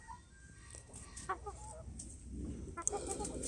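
An adult chicken clucks in short, soft bursts close by over a low background rumble.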